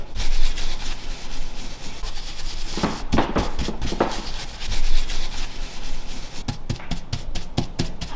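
A brush works Dixie Belle chalk paint over WoodUbend wood mouldings, making continuous close scratchy rubbing strokes with a few sharper dabbing taps.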